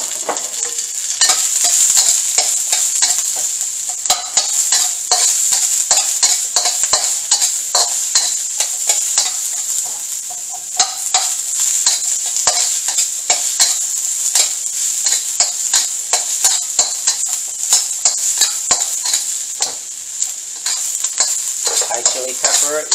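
Onions and garlic fry in a hot pan while being stirred, a bright, constant sizzle broken by quick, repeated scraping and clinking strokes, close and loud, with no talk.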